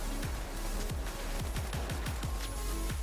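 AKM rifle fired in The Finals, a rapid series of about ten punchy gunshots in quick bursts with booming low thumps, loud and close over a constant game background.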